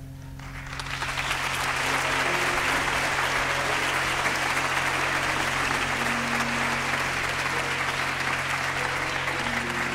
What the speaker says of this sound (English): Y'all give that man a better clap than that.